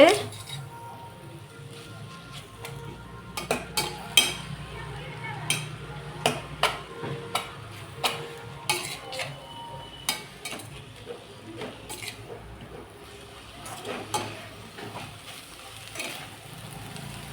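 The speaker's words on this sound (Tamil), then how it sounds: "தண்ணியே ஊற்றலை கீரையில் அந்த எண்ணெயிலே வதங்க விட்ருக்கோம்" Spinach wilting in oil without added water, stirred in a pan with a steady string of soft clinks and scrapes over a low, quiet background of frying.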